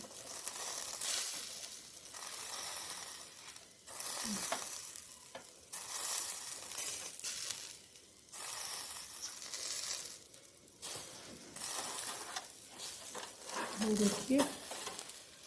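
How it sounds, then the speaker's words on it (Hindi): Tikka boti meat pieces sizzling as they fry in oil in a pan, a steady crackling hiss with occasional stirring scrapes, while someone briefly speaks. "इनको हम ऐसे ही पकाते रहेंगे जब तक कि ये अच्छे से पक नहीं जाते।"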